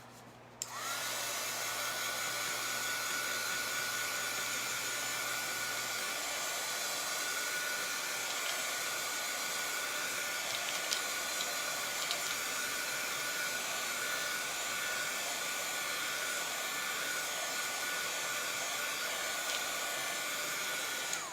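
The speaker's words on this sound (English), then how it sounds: "I'm just gonna dry that up before I let anything go on top of it." A hair dryer blows steadily for about twenty seconds, drying chalk ink on a canvas bag: a loud, constant whooshing roar up close that switches on abruptly and never lets up.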